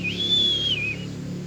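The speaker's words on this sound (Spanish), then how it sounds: "se escucha otra vez ese silbido" A single high, wavering whistle glides up, holds, then dips and trails off, eerie and fairly clear over a low steady background hum.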